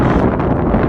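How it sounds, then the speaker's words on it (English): Wind buffets a microphone outdoors during maple sap concentrating, giving a loud, continuous rumbling roar that fills the whole moment. "it's a little bit windy out here"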